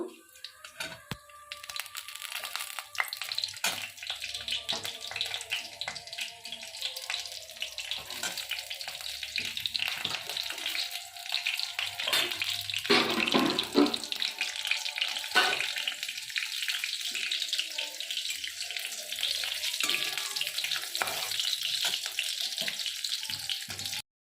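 Panch phoron, green chillies and bay leaves fry in hot oil in a pan, giving a crackling sizzle that swells loudest midway and continues with scattered pops and scrapes.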